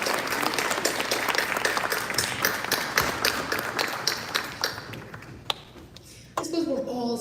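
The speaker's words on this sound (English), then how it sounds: "Please give them a huge round of applause" Audience applause at the Samhita 2022 storytelling event, steady dense clapping for a storyteller that tapers off after about five seconds, leaving quieter room sound and a brief murmur of voices near the end.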